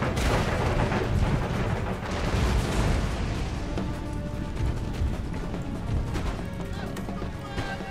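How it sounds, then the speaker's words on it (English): Dense, continuous barrage of shrapnel-shot artillery fire on a Total War battlefield, booming and crashing in overlapping blasts, loud and chaotic throughout with a faint tonal ring underneath. "Shrapnel shot."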